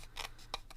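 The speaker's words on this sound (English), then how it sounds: "then you're going to want to go ahead and trim off your paper to match your slide." Scissors snip through paper being trimmed to the edges of a vintage photographic slide, giving a few quick, crisp close cuts in an irregular rhythm against a quiet background.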